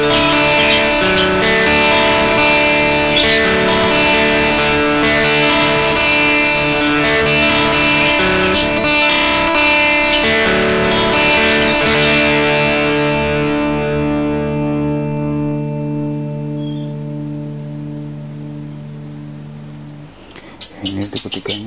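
Electric guitar through a Boss DS-1 distortion pedal with the gain near full: a thick, buzzing distorted chord rings out loud and alone, slowly fading over many seconds, then a few short picked notes snap in at the end.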